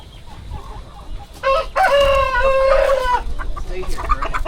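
Chickens on a farm cluck nearby, and one bird's loud drawn-out crow rises above the steady farmyard background.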